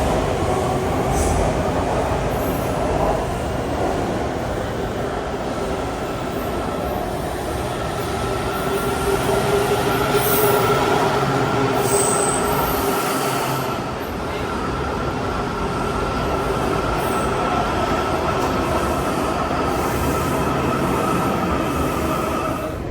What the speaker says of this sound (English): When it comes in, we want the orange train to Vienna.